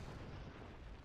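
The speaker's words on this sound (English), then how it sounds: "that artillery behind there though is brutal" Artillery fire in the World War I strategy game France '14 during the Battle of Dinant, a low, dense rumble of distant booming guns rolling continuously and fairly faint.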